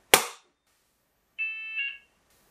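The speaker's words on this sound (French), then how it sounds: "une alarme déclenche l'émission d'un signal bref des avertisseurs sonores et lumineux" Smoke-control system sounders in a residential building give a brief signal. A sharp crack is followed by a short electronic tone, then quiet.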